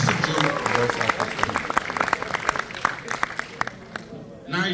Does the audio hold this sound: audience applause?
yes